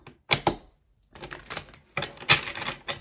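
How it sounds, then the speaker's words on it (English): A deck of tarot cards being shuffled by hand, short bursts of riffling and slapping card noise separated by pauses, close and clear with no talking. "So let's see, I'm going to do one more shuffle."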